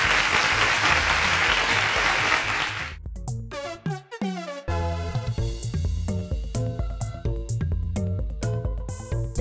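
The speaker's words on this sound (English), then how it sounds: "round of applause to Dabira" Studio audience applause for a contestant at a quiz show grand finale, a loud dense burst of clapping for about three seconds that cuts off into bright music with steady beats.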